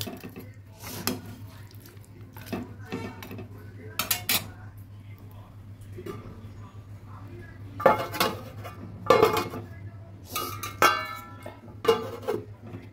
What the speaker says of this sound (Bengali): ভালোভাবে নেড়ে চেড়ে এবার ঢেকে দেব